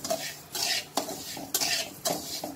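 Sugar melts in oil in a pan for til chikki while a spoon stirs it. Repeated metallic scrapes and clinks fall about every half second over a light sizzle, close and fairly loud, with no voices.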